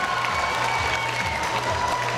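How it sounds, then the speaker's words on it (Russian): Steady audience applause for a contestant at a university student pageant, Mister KPI 2012, as continuous dense clapping from a crowd with a faint hum beneath. "Аплодисменты, Александр Черный, сварочный факультет"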